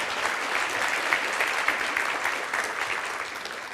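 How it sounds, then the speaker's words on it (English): Conference audience applauding a panel at a European corporate governance event, a steady wash of many hands clapping at moderate distance, unbroken for several seconds with no voices over it. "So another big round of applause for Marcin and his panelists."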